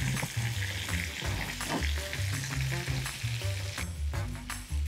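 Loud hissing and sizzling fill the clip as water is poured over chicken legs in a hot pot, with bubbling crackles and occasional clinks throughout.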